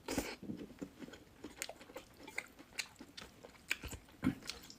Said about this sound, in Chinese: 来个大腐竹。